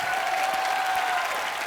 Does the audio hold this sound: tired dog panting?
no